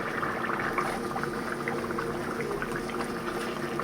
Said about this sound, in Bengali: চিকেন পিসগুলোকে একটু নেড়ে উল্টিয়ে দিব।